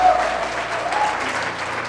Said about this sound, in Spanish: Dan un fuerte aplauso a Dios.